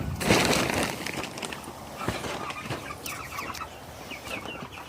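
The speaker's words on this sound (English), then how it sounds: "Chickens." A flock of chickens clucking and murmuring nearby, with scattered sharper calls and a brief rustle of movement.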